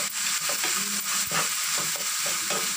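Broad bean curry with dried prawns, salt and turmeric is stirred in a pan, producing a loud, continuous sizzle close up with repeated rhythmic scraping strokes of the spoon.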